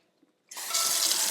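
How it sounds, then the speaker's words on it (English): Tap water gushes into a pasta pentola pot, starting abruptly after a near-silent moment and running as a steady, loud, close rush with no talk. "we're going to use the pasta pentola, and we're just going to fill it up with water."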